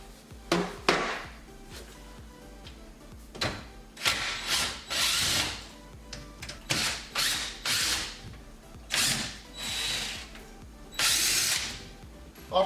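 A power drill backs out screws while a Thermador wall-mounted range hood is installed, giving a series of short whirring bursts of varying length with pauses between them, close and fairly loud.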